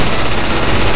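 A dense, continuous burst of rapid gunfire in the Left 4 Dead 2 video game, loud and harsh, filling the whole moment without a break.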